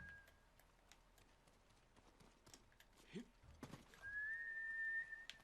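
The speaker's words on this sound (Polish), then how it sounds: "O, koń." Horse in the video game Ghost of Tsushima, galloping hoofbeats low in the mix followed by a long high whinny toward the end, faint and partly under other game sounds.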